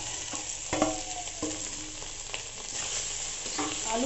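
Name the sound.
potatoes frying and being stirred in a pan with garam masala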